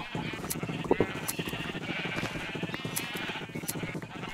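A large flock of sheep bleats in the video game Minecraft, steady overlapping bleats that keep up throughout, loud and close.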